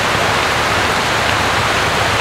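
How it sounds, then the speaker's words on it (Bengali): Heavy rain pouring outside makes a loud, even, continuous roar of dense wash that never lets up, with no talk over it. "বাইরে কিন্তু ঝমঝমিয়ে বৃষ্টি এসে গেছে"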